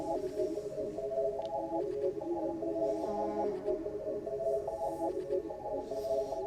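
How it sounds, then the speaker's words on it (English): A quiet UK drill beat melody made in FL Studio loops with a choir sound and a vocal hit from Splice, thin tonal lines repeating over a faint hissy bed, with no talking. "And then I added some vocal effects, a choir sound, and a vocal hit I found on Splice."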